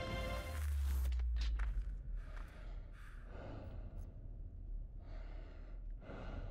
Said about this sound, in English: Is that slow-mo breathing sound just because, like, during slow-mo there's a breathing effect always, or is that Roach breathing?